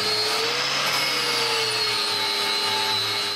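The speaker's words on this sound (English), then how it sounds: "let's get a flap disc," A flap disc on a power grinder strips paint from metal near a Yamaha E40X outboard, with a steady high whine and a smooth continuous grinding hiss held for several seconds, close and with no voices.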